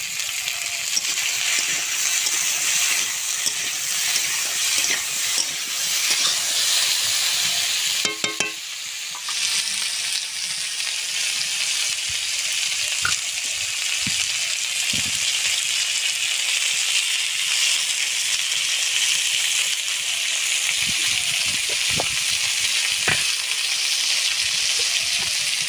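Potatoes sizzle and fry steadily in a pan with salt and turmeric, a dense bright crackle running throughout, with a brief clatter of stirring near the middle and a few sharp pops.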